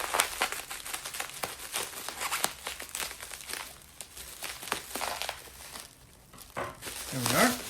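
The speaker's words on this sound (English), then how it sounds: "we'll have to do the cutting of the bubble wrap again" Scissors snipping and crinkling through plastic bubble wrap while unboxing an iPad Pro, close-up irregular crackles and rustles in uneven bursts with a brief tonal squeak near the end.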